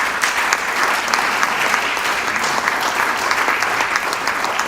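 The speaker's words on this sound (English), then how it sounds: "You should give her a round of applause." Audience applause at a school district board meeting, a steady, dense roomful of clapping hands that stays even and fairly loud throughout without any talking over it.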